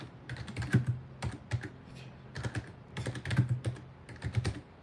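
Typing on a computer keyboard while searching online, with quick irregular bursts of clicking keystrokes and brief pauses, close and alone with no talk.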